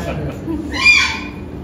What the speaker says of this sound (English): can only communicate through screaming, squawking, flapping